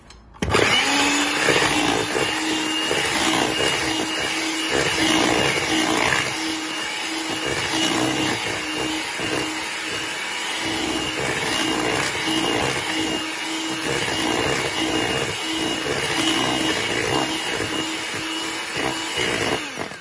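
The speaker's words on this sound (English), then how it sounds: "Whisk it a bit more." Electric whisk beating lemon poppy seed cake batter: a steady, loud motor whir with a scraping bowl texture that runs continuously for the full twenty seconds, with no talking over it.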